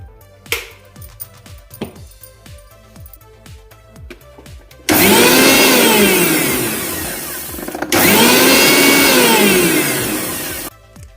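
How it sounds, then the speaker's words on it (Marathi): A kitchen mixer grinder whirs loudly as it grinds roasted poppy seeds, running in two long bursts with a brief pause between them, after some light clinking and tapping at the start. "मी इथे पहिल्यांदा खसखस भाजून खसखस भाजलेली ती फक्त पहिल्यांदा वाटून घेते"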